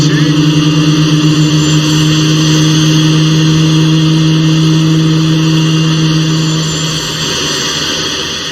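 Apache helicopter engine spooling up in Arma 2, a steady loud turbine whine with strong sustained tones and a broadband rush that holds evenly before easing slightly near the end.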